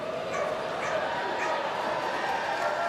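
Fire, a golden retriever, barks and yips excitedly and repeatedly while running the course at the Westminster Kennel Club 2025 Masters Agility Championship Finals, beneath steady commentary over arena noise.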